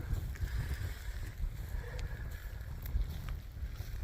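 Gusty wind buffeting a microphone outdoors in picking-up rain, low rumbling bursts rising and falling, with faint splashes and distant sounds behind it.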